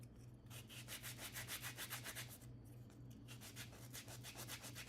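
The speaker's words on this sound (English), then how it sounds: "We're going to sand the majority of it." Rhythmic back-and-forth sanding on a wooden craft tree piece, quick regular scratchy strokes with a brief pause before the strokes resume, close and alone.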